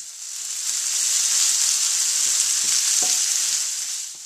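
Thawed frozen green peas and diced carrots frying in a pan for fried rice, a loud, steady, close sizzle with a few faint stirring knocks underneath.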